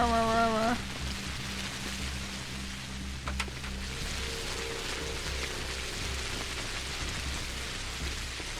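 Steady rain in the video game Pathologic, a continuous soft hiss lasting throughout, with a low game drone and brief tonal interface sounds layered over it.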